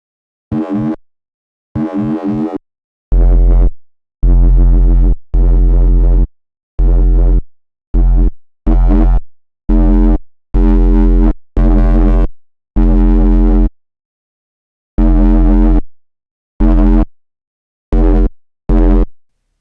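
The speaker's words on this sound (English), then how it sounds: "Sounds like it is doing high pass stuff into distortion" Short bursts of a gritty, distorted, high-passed synth tone with a deep sub-oscillator bass underneath, played in separate notes with silent gaps between them.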